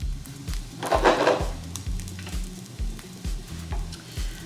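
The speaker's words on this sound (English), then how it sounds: "Place our patties carefully on here. We're gonna wait till the bottom browns nicely, and then we'll flip them." Canned salmon patties fry in a hot pan with a steady close sizzle and soft rhythmic bubbling pulses, swelling briefly louder near the start.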